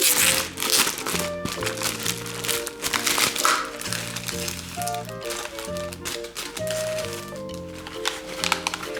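Plastic wrapping crinkled and torn while opening a Masha and the Bear toy magazine, close crackling and rustling bursts over light music in the background.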